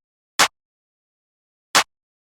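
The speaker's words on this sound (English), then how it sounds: "First, we had a clap." Two sharp, bright clap hits spaced over a second apart, each short and crisp with silence between them.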